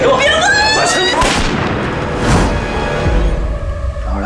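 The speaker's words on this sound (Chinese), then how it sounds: "哪来的枪声？" Gunfire in a Chinese spy TV drama, heard as two sharp, loud booming bursts after a voice at the start, with a rumbling tail continuing under the scene.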